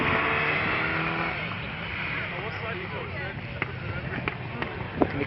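Ford Escort rally cars race on a wet, slushy track, their engines droning steadily under continuous commentary, with a few sharp clicks and bursts toward the end.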